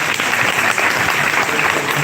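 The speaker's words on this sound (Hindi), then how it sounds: "Sir के लिए जोर से ताली बजाई जाए." Loud, dense applause from a seminar audience fills the room for a sustained stretch, steady and even throughout with no pauses.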